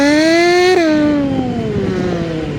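A man mimics a superbike exhaust with his mouth, a loud close buzzing rev that climbs, peaks sharply, then drops away in a falling whine, like a bike shifting down.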